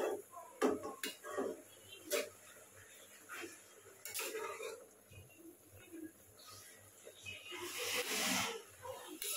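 Leafy greens fry in a pan while a knife stirs them, giving faint intermittent sizzling with scraping clinks of metal against the pan, scattered and uneven in a quiet kitchen.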